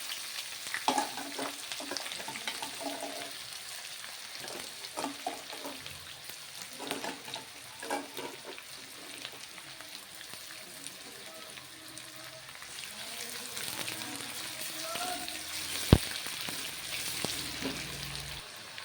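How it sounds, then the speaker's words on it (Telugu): Thinly sliced large onions frying in hot oil for a goat liver curry, a steady close sizzle and crackle with occasional stirring scrapes. "ఉల్లిపాయలు వేగుతున్నాయండి చక్కగా"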